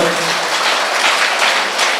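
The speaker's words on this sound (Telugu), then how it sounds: "ఒకసారి గట్టిగా గట్టిగా చప్పట్లతో" Audience applause fills a hall at a pyramid meditation centre's twelfth anniversary spring festival in Gudivada, a dense, steady wash of many hands clapping loudly throughout with no speech over it.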